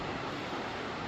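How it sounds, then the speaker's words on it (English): The French Broad River roars below an Appalachian Trail overlook near Hot Springs in drizzly weather, a steady, faint, broadband rush of moving water heard from a distance with no voices. "hearing that roar of that French Broad River"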